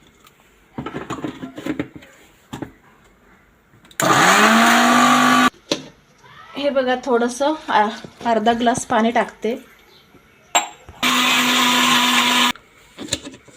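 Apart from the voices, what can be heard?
mixer grinder blending pani puri paste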